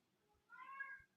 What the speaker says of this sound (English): I do apologize for the cat if you can hear him in the background.